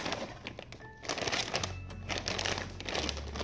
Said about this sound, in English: Okay, so I'm gonna open it. Okay, so it's just a Ziploc bag.